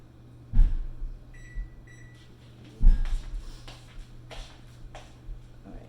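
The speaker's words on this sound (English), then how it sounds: "I'll set the timer for that." A kitchen timer being set while pizza dough rests: a few soft clicks and short tonal beeps, with two louder thumps at the start, in a quiet kitchen with no one talking.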